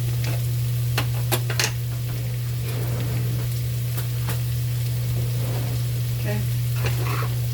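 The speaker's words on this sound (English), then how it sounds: "I'm gonna add my garlic and I'm gonna add my ginger." Garlic and ginger frying in a pan for coconut curry chicken, a continuous close crackling sizzle with scattered pops and stirring, over a steady low electrical hum.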